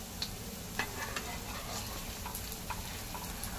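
Sabudana vadas shallow frying in oil over a medium flame, a soft, steady crackling sizzle with a few small pops, heard close and fairly quiet.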